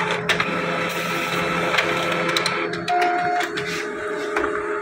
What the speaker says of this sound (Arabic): سحبت الورقه تاني عشان تحط الظهر وتطلعه لنا